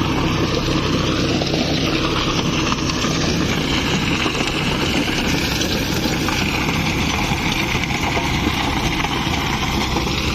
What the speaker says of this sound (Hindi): शानदार ट्रैक्टर है, तेल थोड़ा ज्यादा खाता है लेकिन काम भी राउंड अच्छा है इस ट्रैक्टर में।